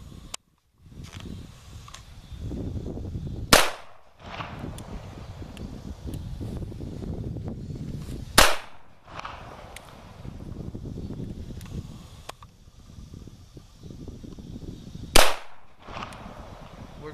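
Three sharp, loud gunshots from a CZ 82 handgun fired double action outdoors, spaced several seconds apart, with wind buffeting the microphone in between.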